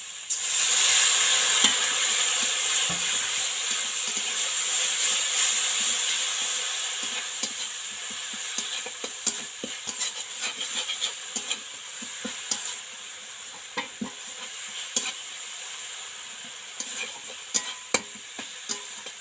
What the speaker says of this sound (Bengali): জিরে, মরিচ, ধনে, গরম মশলা বাটা দিয়ে সামান্য একটু জল দিয়ে কষে নেব।